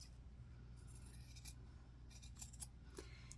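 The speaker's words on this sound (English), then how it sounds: "I am now going to cut down the back seam allowance so that it's not so bulky when we flip it inside out." Sewing scissors trim the back seam allowance of a fabric dress with an applied collar, a few quiet, crisp snips and rustles close by in a hushed room over a low hum.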